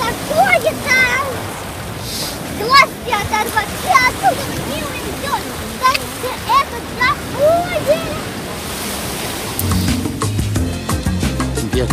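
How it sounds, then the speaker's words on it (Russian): Sea waves splash and wash continuously at Brighton while a voice and other people talk and exclaim over the rushing water. "Волны текут на меня!"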